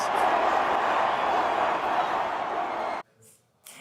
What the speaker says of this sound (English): you can hear the crowd chanting one more time